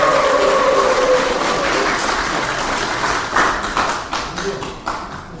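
Audience applause at a People Power Party policy meeting of the Gyeonggi Provincial Council, a steady wash of clapping that thins into scattered individual claps near the end.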